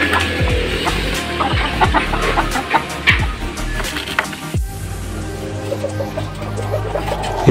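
Laying hens clucking steadily at close range, a busy overlapping chorus of short calls with occasional louder squawks, no talk over them.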